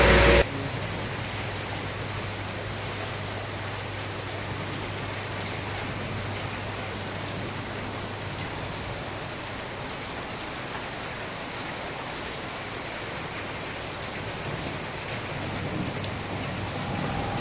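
Steady rain falls on surfaces in a dense, even hiss of drops that holds unbroken for the whole stretch, with no voices.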